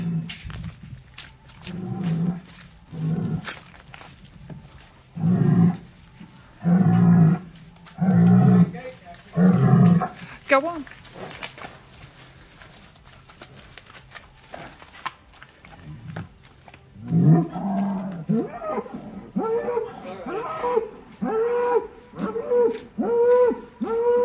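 Four bulls being moved through a gate into a pasture give a run of loud, nearby moos in repeated bursts, followed later by a series of shorter lowing calls.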